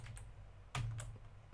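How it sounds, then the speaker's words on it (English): Keys on a computer keyboard are pressed during Fusion 360 CAD sketching: a few soft clicks with one firmer tap in the middle, close and quiet, with no talk. "hit D on the keyboard"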